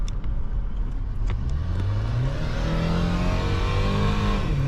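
A turbocharged Chevy HHR SS engine with 200,000 miles revs up under boost, heard from inside the car, its tone climbing steadily and staying loud throughout.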